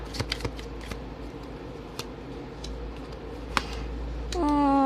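Tarot cards being shuffled by hand, a run of quick crisp riffling clicks up close, ending in a sustained tonal chime, with no one talking.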